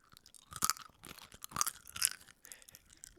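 Crunchy lemon candy is chewed close to the ear in a few sharp, crackly bites spaced about half a second apart, with softer mouth sounds between them.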